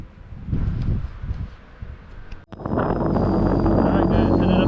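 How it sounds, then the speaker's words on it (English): Strong wind roars and buffets the microphone on a mountain top at Snowshoe, West Virginia, in winter, swelling into a steady loud rush after a brief lull, with a faint high whistle. "the wind just whistling over the top of the mountain here"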